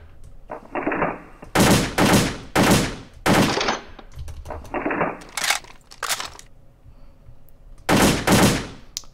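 AK47 rifle fire on a World of Guns shooting range: several loud, close bursts of rapid automatic shots separated by short pauses, with faint mechanical clicks between the volleys.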